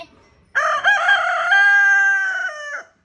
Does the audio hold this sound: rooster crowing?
yes